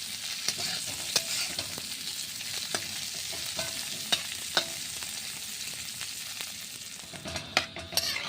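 Okra fries in a wok with onions and lentils, a steady close sizzle broken by scraping clicks from stirring that grow busier toward the end, with no one speaking.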